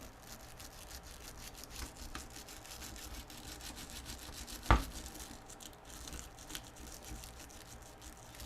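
Stiff stainless toothbrush scrubbing the contacts inside a dead Hitachi 20VR2B 20-inch TV VCR combo during repair, a steady close-up brushing rasp running throughout with one sharp tap midway.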